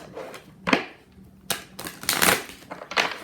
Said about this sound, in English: Yeah, I shuffle. I'm kind of harsh.